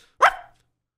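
A single sharp bark, loud and close, from a person imitating a dog during a gaming session, over in under half a second and followed by silence.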